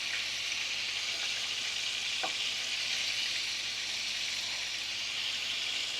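Garlic butter chicken bites sizzle steadily in a pan, a bright, even frying hiss with a faint clink of utensils partway through.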